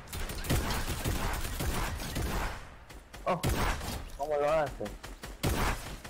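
Gunfire in Fortnite: rapid bursts of shots and impacts mixed with excited voice chat from players, loud and busy, with a brief warbling effect in the middle.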